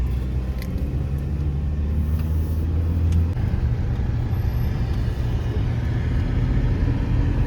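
Riding inside a car, a continuous low engine and road rumble that grows rougher and louder partway through, with no talking.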